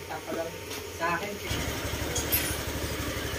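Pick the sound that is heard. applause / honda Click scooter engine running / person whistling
honda Click scooter engine running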